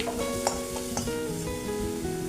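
Garlic frying in a pan for an egg garlic kasha, a steady low sizzle with a few soft stirring scrapes.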